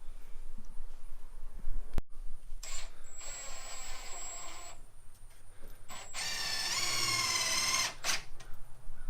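A power drill drives GRK trim-head screws into timber while framing a gable, with two separate whirring bursts up close and sharp knocks between them, and no talking.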